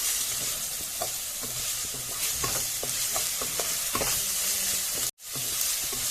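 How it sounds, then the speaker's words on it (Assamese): Ginger, garlic and onion sizzle in hot oil in a continuous close hiss, broken by occasional stirring clicks and scrapes of a spoon against the pan. "আদা নহৰুখিনি দিয়াৰ পাছত তেতিয়ালৈকে ভাজিম"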